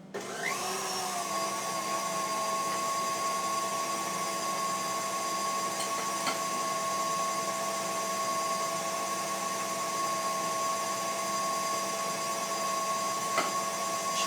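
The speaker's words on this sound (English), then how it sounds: "The mixer is going." An electric stand mixer runs steadily on medium speed, its whisk beating egg whites as sugar is added, producing a continuous whirring motor drone with a bright high hum that holds level for the whole stretch.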